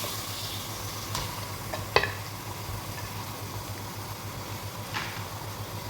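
Chunks of fibrous beef, one kilo, stirred in a pot for haleem, with a low steady sizzle and a few sharp scraping clinks of the spoon against the pot; no talking.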